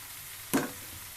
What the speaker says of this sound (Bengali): এখন আমি সবজিটা ঢেলে দেবো অতিরিক্ত তেল ব্যবহার করব না